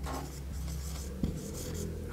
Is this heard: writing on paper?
yes